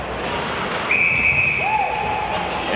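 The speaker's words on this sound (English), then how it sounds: "And we get a whistle" Referee's whistle at a prep ice hockey game between Wasilla Warriors and Colony Knights, called for a high stick: a single sustained shrill blast over rink crowd noise and a faint lower tone.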